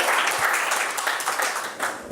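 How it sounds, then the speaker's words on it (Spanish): An audience in a university lecture hall breaks into a warm round of applause, with dense clapping that carries on without a break and fades a little toward the end. "lo acogemos con un fuerte aplauso"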